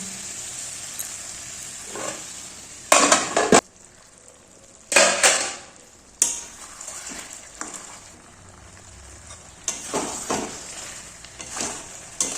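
A metal lid is set on and shifted over a pot of simmering chicken curry, giving several close clanks and scrapes separated by quiet gaps, with soft cooking noise underneath.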